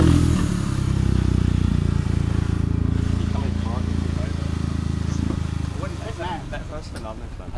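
A Brabus car with triple exhaust idles and rumbles nearby with a deep, throbbing engine note that fades slightly, while people talk over it in the second half.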